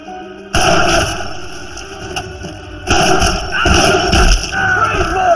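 Gunshots ring out in an action film, two sharp heavy blasts spaced a couple of seconds apart over a tense, loud score, with scuffling thuds between them.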